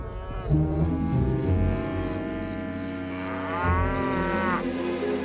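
Cartoon cow lets out a long, loud, drawn-out moo that holds steady and then wavers near the end, heard alone without talk.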